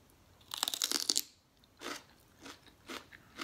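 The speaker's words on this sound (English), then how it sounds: "I'm having it with some celery." Celery dipped in mojo sauce is bitten off with a sharp close crunch, followed by several softer chewing crunches spaced through the rest, with no talking.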